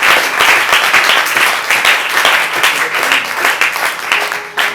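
A church congregation applauding for Jesus during a sermon, loud dense clapping close by that stays full throughout.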